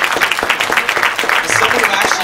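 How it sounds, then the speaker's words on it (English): Applause at a conference closing keynote for the speaker Vincent, a fairly close, choppy burst of clapping from the audience that stays steady for a couple of seconds. "I want to give a big round of applause to Vincent"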